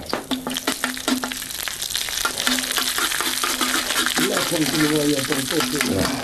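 Paprika sizzles loudly in very hot pork fat for an Asturian pote, a dense crackling fry with stirring and scraping in the pan, close up and continuous.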